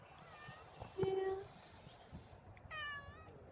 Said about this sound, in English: Such a meow.